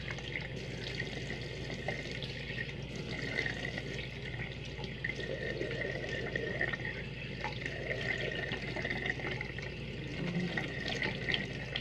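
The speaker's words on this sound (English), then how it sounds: "I'm gonna do a cold rinse today." Cold water runs steadily from a bathroom tap for a rinse while shaving, a constant hissing stream that holds a near, even level throughout with no talking.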